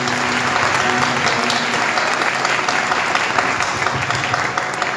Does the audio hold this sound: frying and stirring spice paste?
no